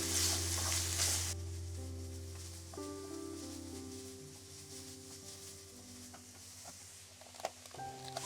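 Chicken mince stirred and broken apart in a hot pan for a soft tofu with egg dish, a steady close sizzle with scraping and clinks of the utensil, louder at the start and then settling into a quieter, even fry.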